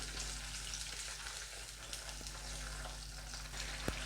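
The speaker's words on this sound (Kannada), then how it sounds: "ಹಸಿ ವಾಸನೆ ಹೋಗೋವರೆಗೂ ಫ್ರೈ ಮಾಡ್ಕೊಳ್ಳಿ." Onion masala for mushroom pepper masala frying in oil in a pan, a steady soft sizzle with faint stirring clicks and scrapes near the end, no talk.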